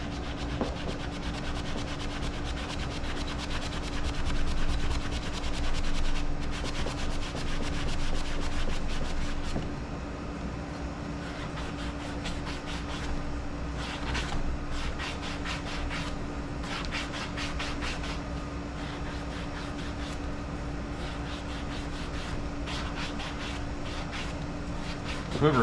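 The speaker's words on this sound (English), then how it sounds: "You can sand curved surfaces like this so easily." A sanding sponge rubs steadily over a curved wooden salt or pepper grinder, a continuous close scratchy abrasion with bursts of quicker strokes, over a low steady hum.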